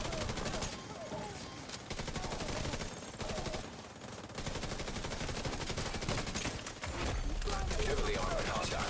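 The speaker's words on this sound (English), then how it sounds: "after all the shooting" Rapid video game gunfire crackles in dense bursts, broken by brief pauses, with a voice talking over the shooting.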